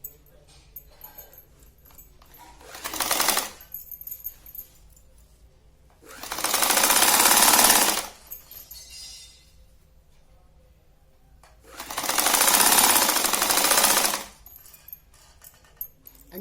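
A sewing machine stitches lace onto a saree in three bursts of a couple of seconds each, loud and close, separated by quiet pauses.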